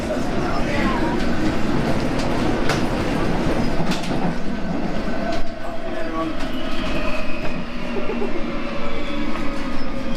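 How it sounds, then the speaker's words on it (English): A train to Upminster running continuously nearby with a steady rumble and faint wheel clatter, while people talk over it. "Train to Upminster."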